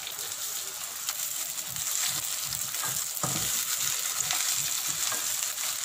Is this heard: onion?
yes